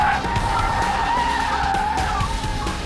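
An electric Mercedes SLS AMG corners hard with its tires skidding, a loud sustained squeal over a steady whining drive, close and continuous for about three seconds.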